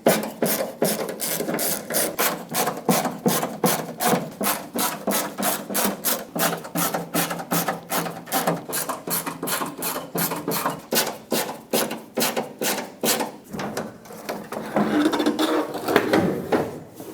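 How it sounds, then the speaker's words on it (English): Phillips head screws being backed out of a tailgate panel on a 2003-2009 Dodge Ram 2500 HD truck, with a steady stream of rapid ratcheting clicks close by that runs for most of the clip and then stops near the end. "I'm going to remove them all and then remove the panel."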